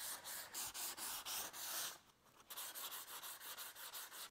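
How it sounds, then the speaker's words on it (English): Hand sanding with 320-grit paper on a foam block eases the hard edges of a wooden serving tray. Quick, close, rhythmic rasping strokes repeat evenly, with a short pause midway. "ease these hard edges with some 320. I'm just using a foam sanding block to support it"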